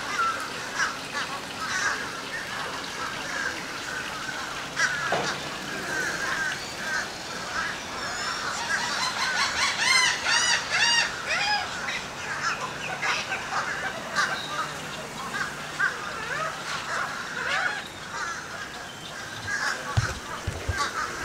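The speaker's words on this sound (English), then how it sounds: "Just hear a whole bunch of birds all the time." A crowd of birds at a seabird sanctuary by a pond clucks, honks and calls without pause, with overlapping cries from several directions at a steady, busy level.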